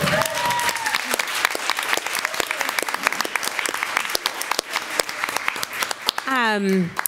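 Audience applause at a school board of education meeting, a sustained burst of many clapping hands lasting several seconds, with a voice speaking briefly near the end.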